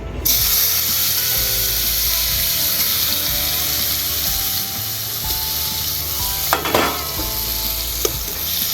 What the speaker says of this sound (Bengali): তেল গরম হয়ে গেছে গরম হয়ে গেল আমাদের যে মাখানো নুন হলুদ মাখিয়ে যে আমরা মাশরুমটা তৈরি করেছি সেটা ভেজে নেব